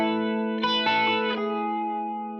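An electric guitar rings out through a chorus pedal, one sustained shimmering chord with a few strummed accents, then a slow fade, close and clean with no voices.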